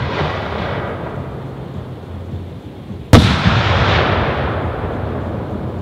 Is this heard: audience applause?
no